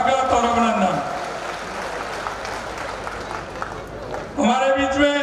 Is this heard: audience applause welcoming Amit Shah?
yes